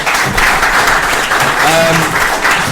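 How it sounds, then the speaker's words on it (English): Warm, dense applause from an audience at a book launch event, loud and continuous, with a faint voice briefly underneath. "I think a round of applause for Chris, first of all."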